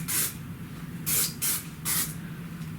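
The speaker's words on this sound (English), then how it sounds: "I will just spray" Hair spray hisses from an aerosol can in four short, close bursts of about a third to half a second each, separated by brief pauses, with no voice.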